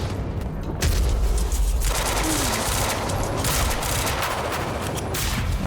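Dense, continuous gunfire rattles in the video game Quantum Break, a sustained loud volley of rapid shots and booms after a short quieter lead-in, filling the whole stretch without letup.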